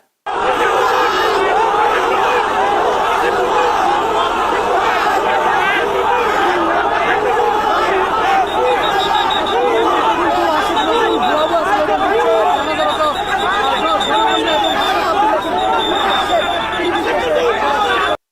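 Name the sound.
crowd chanting 'bhuya bhuya' slogans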